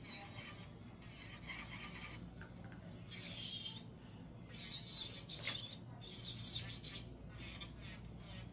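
A high whining nail drill shaping acrylic nails squeals and rasps in bursts, catching and scraping unevenly on the side at close range with no talking.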